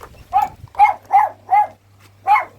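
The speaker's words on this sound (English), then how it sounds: "You're barking at me" A dog barks five times in loud, close, evenly spaced woofs, with a short pause before the final bark, over a faint low hum.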